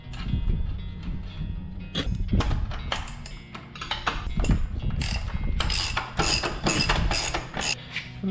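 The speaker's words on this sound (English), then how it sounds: "Bolt this axle back down." A ratchet wrench clicks in quick, loud bursts, close up, while bolting a minibike axle back down.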